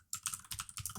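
Quick burst of typing on a computer keyboard, about six soft close key clicks in a brisk uneven rhythm with no voice.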